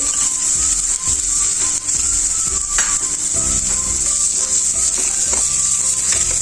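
Carom seeds, garlic and sesame seeds dry-roast in a pan over a low gas flame, giving a steady, close crackling sizzle with small clicks and scrapes of stirring throughout.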